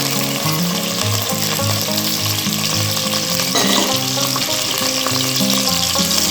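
Green chillies, curry leaves and onions frying in hot oil for an Andhra brinjal curry, a loud continuous sizzle and crackle filling the whole stretch, close up, with a brief stir partway and steady background music.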